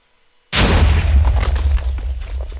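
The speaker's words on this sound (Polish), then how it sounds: "To wybuchło." Sudden loud explosion in Minecraft, likely a creeper blast, bursting from silence with a deep boom that rumbles and slowly fades.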